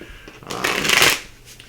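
A short riffle of tarot cards being shuffled, one quick burst of papery flutter that rises and fades over about a second, close and fairly loud, with no talk over it.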